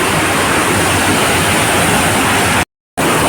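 Devkund waterfall in Similipal, Odisha roars as a dense, loud, constant rush of falling water, broken once by a brief dead-silent gap before the roar resumes.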